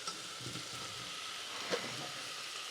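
Boiled potatoes returned to a hot pan with spiced oil for a warm potato salad, a faint steady sizzle with a soft clunk, low and even with no talking.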